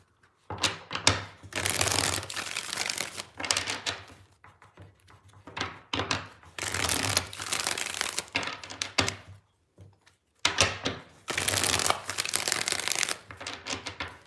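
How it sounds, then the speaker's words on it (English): Tarot cards are shuffled in repeated bursts of rapid riffling and flapping, three long runs of crisp papery clatter separated by brief pauses, close and fairly loud with no talking. "Two more shuffles, 2 more."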